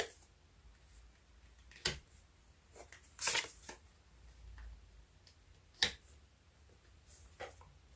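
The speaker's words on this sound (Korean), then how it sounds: "그럼 이번 달 주별로 귀인의 흐름은 어떻게 되는지 카드 뽑아보도록 하겠습니다" Tarot cards are shuffled and drawn in a quiet room, with a few sharp riffling bursts and light taps scattered over several seconds, close and fairly faint, no speech.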